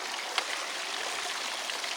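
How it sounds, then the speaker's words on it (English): Fast-flowing water pours down a gold wash plant sluice fed by a Gold Fox trommel, making a constant loud, hissing rush with faint patter and one small splash near the start. "River's flowing fast. All the way down the sluice into the final sluice."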